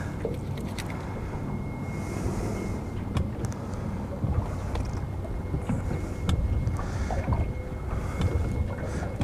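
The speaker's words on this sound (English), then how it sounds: "I'm turning the boat, Levi." Small fishing boat on a river current, a steady broadband rumble of motor and water with some wind buffeting the microphone, continuous and fairly close throughout.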